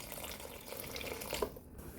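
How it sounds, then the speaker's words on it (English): Water poured into a pot of vegetable khao suey soup with chopped baby corn, a steady broadband splashing pour running throughout, close and moderately loud, ending abruptly near the end with a brief quieter tail. "I'll also add in a bit more of water"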